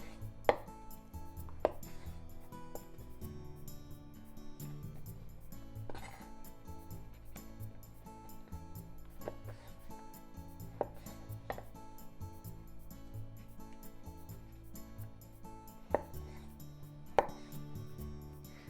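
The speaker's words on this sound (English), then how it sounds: "Just cut it into 4." A knife taps steadily through shiitake mushrooms on a cutting board, giving a quiet, regular run of close chopping strikes with a few sharper knocks and faint clinks.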